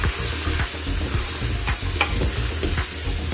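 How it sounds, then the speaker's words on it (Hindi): Tomato and mixed masala spices with cumin frying in a pan for mutton and potato curry, a steady close sizzle broken by scraping stirs of a spoon, with no talking. "अब हम इसे भून लेंगे।"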